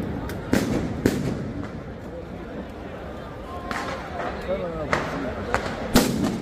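Several sharp bangs of large firecrackers in Valencia burst out at irregular intervals, some close and loud, others farther off, with people talking underneath throughout.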